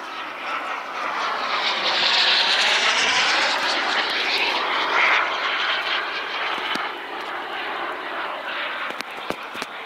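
Model airplane flying at a model aircraft meeting, its engine whining loudly as it passes fairly close, then fading gradually into the distance.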